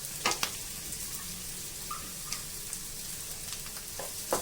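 Sago upma ingredients, including chopped pieces and half-cooked moong dal, fry quietly in a pan with a soft background sizzle and a few light scrapes and taps of a stirring spoon, faint and close.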